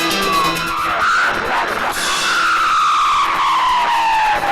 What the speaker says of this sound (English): She finally rams into a retaining wall and spins to a stop.